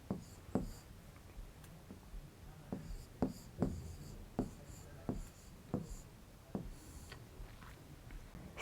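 Writing on a board during a Hindi-language Class 7 science lesson: a series of irregular, fairly close scratchy strokes and taps, with short pauses between marks, heard alone without talk.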